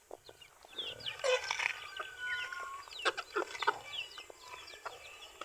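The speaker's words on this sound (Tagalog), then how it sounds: "ito naman yung mga manok natin" Chickens cluck and call in a farmyard, several birds close by with overlapping bursts of clucking and squawks, moderately loud against a quiet background.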